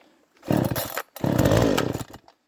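Radley 52cc chainsaw with a 20-inch bar on full choke, two loud, close bursts of engine sputtering and revving, each about half a second to a second long, separated by a short pause before dying out.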